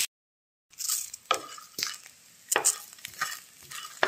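Spices seasoned with black salt and turmeric are stir-fried in a pan until lightly browned, with close, repeated spatula scrapes and stirring strokes over a soft sizzle, no talk.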